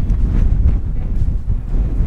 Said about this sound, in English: It's also really windy over this side.